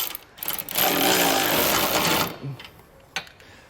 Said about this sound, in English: we're going to go ahead with our 3/4 inch socket and start zipping these up